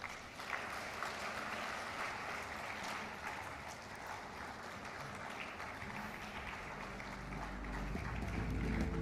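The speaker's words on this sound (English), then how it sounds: "Another round of applause." Applause fills a large auditorium at a summit opening ceremony as heads of state leave, a steady, moderately distant wash of clapping from a big audience that swells slightly toward the end.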